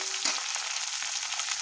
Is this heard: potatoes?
yes